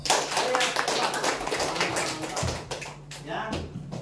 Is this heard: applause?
yes